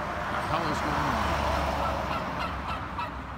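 A wild turkey perched on a wire gobbles in a loud, rolling burst near the start, followed by softer trailing calls over steady outdoor background noise.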